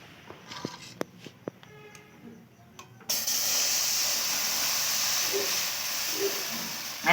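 Ladle of rice-flour batter poured onto a hot pan for chitoi pitha, a sudden steady hiss of sizzling that starts midway and holds loud and even, after a few light clinks and taps.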